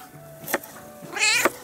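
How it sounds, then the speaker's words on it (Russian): A cat meows twice at close range outdoors in a quiet rural yard, a short call followed by a longer, rising, wavering one over a faint steady hum. "Вторая кошка."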